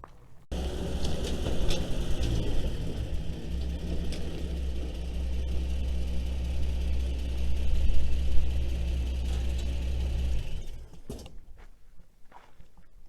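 Vehicle engine starting at a remote property and settling into a steady low idle, a deep continuous rumble that runs for about ten seconds before cutting off, with faint footsteps and handling noises around it.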